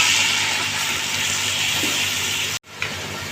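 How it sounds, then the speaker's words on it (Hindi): Garlic-ginger paste frying with chicken in a pan, a steady close sizzle and hiss running throughout, briefly cut off near the end before resuming. "लहसुन अदरक के 2 चम्मच हम भर के पेस्ट के शामिल कर देंगे और इसको हल्का सा फ्राई कर लेंगे"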